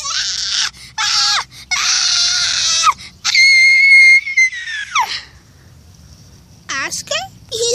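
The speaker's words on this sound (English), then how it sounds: "he's screaming like a little girl" A child at a zoo screams in shrill, high bursts, some held and some broken into short yelps, loud and close, with a quieter stretch before a few final wavering cries.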